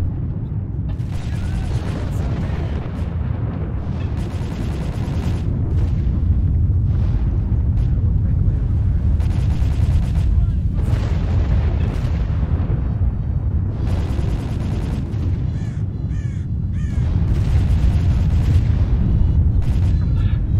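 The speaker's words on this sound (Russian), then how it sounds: "Итак, это выброс от первого лица." Low, continuous rumbling with rolling booms and mechanical clatter during an emission (blowout) in the video game S.T.A.L.K.E.R.: Call of Pripyat, loud and sustained throughout, with heavier surges toward the end.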